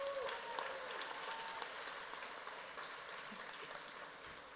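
Faint, distant applause from an audience at a STEM competition awards show, a continuous patter of clapping for the teams that slowly thins out.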